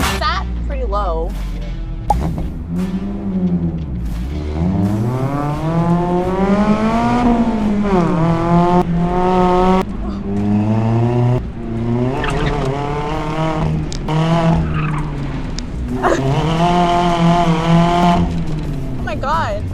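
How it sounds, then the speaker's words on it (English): A Mazda Miata laps a race track, its engine revving and droning up and down through gear changes with tire noise, while a voice talks over it throughout. "I only had 2 bonus laps to try the Miata, but here's how it went."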